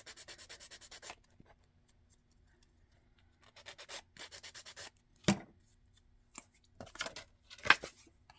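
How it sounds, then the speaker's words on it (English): Cut plastic bread tabs are sanded down in quick rhythmic bursts of short rasping strokes. The strokes come in several close, quiet runs, separated by pauses and a few louder scrapes. "So we want to cut off sand it down some just so it's not so sharp."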